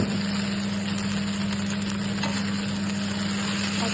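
Potatoes fry in a pan, a continuous even sizzle with a low steady hum underneath and faint stirring, no speech.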